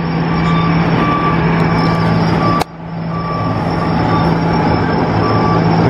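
Construction truck on a street in Gatlinburg, Tennessee, with a steady high reversing beep over a loud continuous engine drone, briefly interrupted by a sharp click midway, close and constant throughout.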